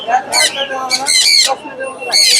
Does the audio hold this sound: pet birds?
yes